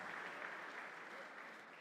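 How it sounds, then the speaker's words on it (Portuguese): A church congregation applauds together in a sustained, even wash of clapping that fills the room, fairly distant and steady throughout. "vamos aplaudir a Jesus, irmãos"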